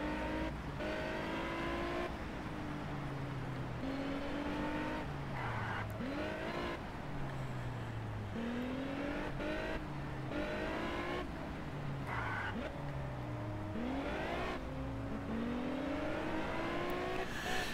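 Car engine in the Test Drive Unlimited racing game on Xbox 360, set on Oahu: repeated rising revs and gear shifts as the car accelerates, with tire noise and occasional skids, steady and fairly loud throughout.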